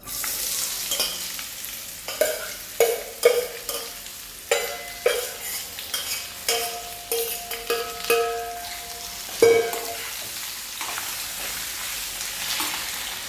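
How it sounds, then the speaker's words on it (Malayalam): Chopped ivy gourd and beetroot stir-fry in a pan. Repeated bursts of scraping and tossing come every second or so over a steady sizzle, close and fairly loud. "ഇനി നമുക്ക് നമ്മുടെ വെജിറ്റബിൾസ് ഇട്ട് കൊടുക്കാം."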